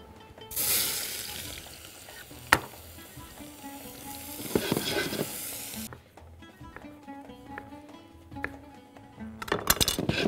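Chopped onion hits hot oil and sizzles in loud bursts, with a sharp clatter partway through and quieter gurgling stretches between the louder frying spells.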